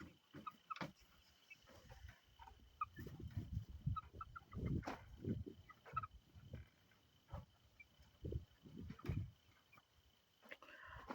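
Backyard chickens cluck and murmur softly at close range, faint scattered low calls over a quiet morning background, with no speech.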